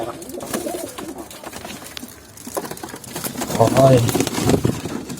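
Pigeons coo in low, throaty bursts close by in an aviary, mixed with a person talking and some rustling movement.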